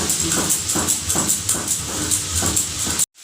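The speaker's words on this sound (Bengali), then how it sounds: "ভেজে রাখা গোটা ধনে আর সাদা গোটা দিয়ে গুঁড়ো করে দেবো" Electric grinder whirring loudly through fried whole coriander and spices, a harsh, pulsing, steady roar close by that cuts off abruptly near the end.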